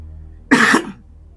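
A person gives a single short, sharp cough, loud and close, with nothing else heard around it.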